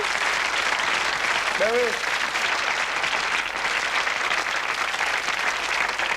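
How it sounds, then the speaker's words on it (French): Sustained studio audience applause on a French television game show, a dense, even roar of clapping throughout, with a brief spoken interjection partway through. "On peut les applaudir quand même tous les deux"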